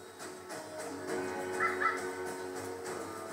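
Ravens cawing in open country, a couple of harsh calls rising over a steady low background rumble, moderately distant.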